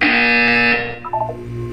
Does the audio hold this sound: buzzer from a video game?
yes